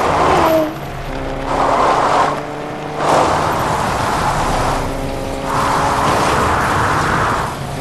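A video game car drives along with a steady engine drone, its revs climbing and dropping in several surges over about eight seconds, with no talking.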